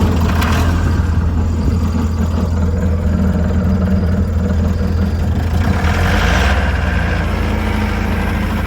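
A 12-valve 6BT Cummins diesel idles steadily as it warms up, a loud, close, continuous low rumble with an even rhythm throughout and no talking.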